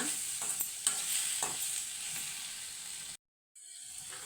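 Cashews sizzling in hot oil in a pan for hotel-style paneer curry, with steady frying hiss and a few clinks of a stirring spoon, then a brief cut to silence before the sizzle resumes.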